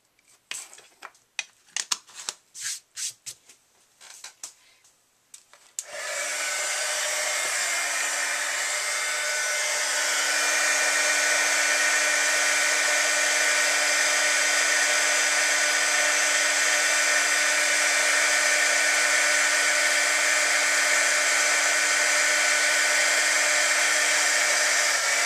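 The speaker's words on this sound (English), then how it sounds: "Now I'm going to get this back in before I turn on the embossing tool" Several seconds of scattered clicks and light handling noises lead into a heat embossing tool's steady, loud hot-air whir. The whir runs on continuously at close range.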